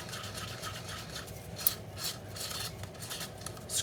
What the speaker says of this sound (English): So we're just gonna kind of stir this.